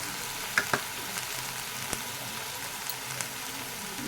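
Fried tomato with turmeric powder sizzles steadily in a pan, a soft even hiss punctuated by a few sharp clicks like a spoon tapping the pan edge.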